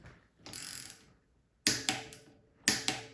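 Axle bolt on a Cyclete separable thru-axle crank assembly tightened to 28 foot-pounds, a soft rasp followed by repeated crisp ratchet clicks in two quick clusters, close and clear.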